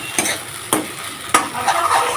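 Chopped garlic and black cumin seeds sizzle in hot oil as a tempering, with a steady frying hiss broken by three sharp stirring clinks of a utensil against the pan.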